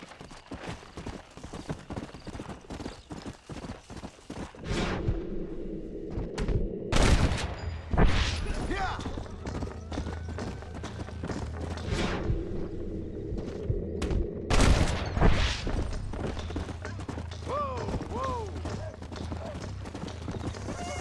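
Clip-clop of galloping horses in the Red Dead Redemption video game, with scattered bursts of gunfire and a horse's whinny over a steady game soundscape; voices call out briefly.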